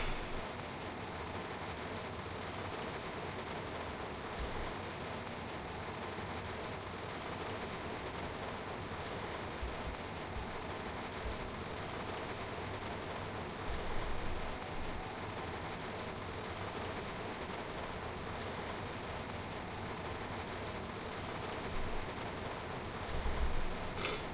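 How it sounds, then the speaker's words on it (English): Steady heavy rain in a train simulator game hisses continuously, a dense, even wash of noise with a couple of slightly louder surges. "That rain is loud, isn't it?"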